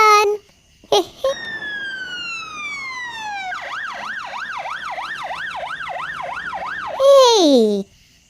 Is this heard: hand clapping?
no